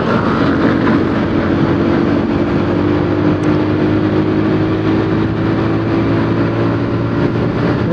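A motorcycle engine drones steadily on the move while downshifting, loud and close with constant wind rush, and no clear separate rev peaks.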